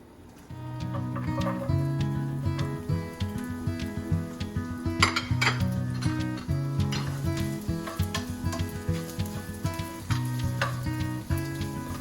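Onions dropped into hot oil in a pan for a rustic feta and vegetable tart, a steady moderate sizzle starting abruptly with occasional utensil clinks and pan scrapes over a low background hum.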